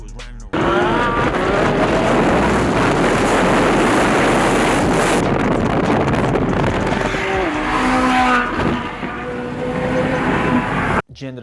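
A McLaren 570S and a Ferrari racing on a street, engines roaring loud and close throughout, with a rising, shifting engine whine near the end before cutting off.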